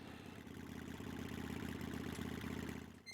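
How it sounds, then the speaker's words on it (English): An engine runs steadily at an even idle-like pitch, a low, rhythmic hum with a faint, distant character, continuous for a few seconds before dropping off at the end. "Can hear the engine."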